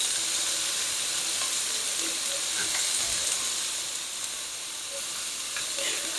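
A Salisbury steak patty sizzles steadily in a frying pan with hardly any oil, a continuous close crackle and hiss running through the whole stretch with faint scattered pops.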